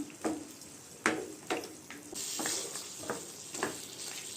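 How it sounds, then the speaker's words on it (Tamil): Pepper chicken sizzling in a hot pan after a splash of water, with several sharp bursts of hiss and stirring scrapes repeating about every half second, then a steadier fizz; close and moderately loud, no talking. "தண்ணி ஊற்றிட்டு நல்லா கிண்டி விட்டுருங்க."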